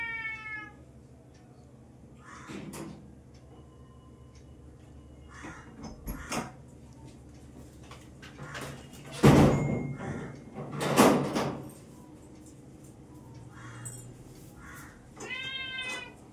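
Several cats meowing near and loud in a series of drawn-out calls, with a crow cawing in the background and a door sliding at one point.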